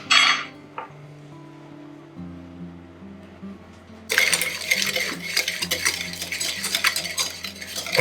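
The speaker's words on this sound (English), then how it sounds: "I'm going to whisk the egg yolks and 1 level tablespoon of sugar together." A whisk beats egg yolks with a tablespoon of sugar in a bowl for eggnog, a quick steady scraping and clinking that starts midway and continues close and loud after a quieter opening.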